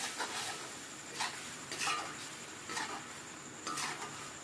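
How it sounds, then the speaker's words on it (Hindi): A spoon stirs chicken karahi in a pan, with soft scraping sweeps and several light metallic clinks spaced through a quiet kitchen. "तो ये देखिए इस तरह से आपने चम्मच हिलाना है।"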